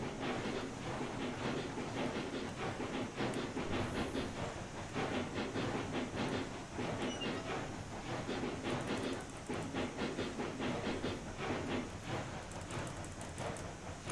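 Three steam locomotives running as a triple header in the Railroads Online train game, a steady loud chugging rumble with hissing steam and rhythmic clickety-clack that keeps going for the whole stretch.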